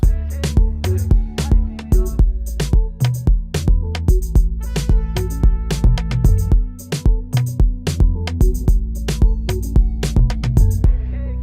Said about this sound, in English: So that's just a flute, ethnic sound.